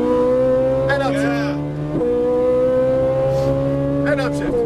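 Ferrari 458 Italia V8 howling on a track, holding a steady high pitch before one sharp upshift drops the revs and it climbs again; an instructor talks over it throughout.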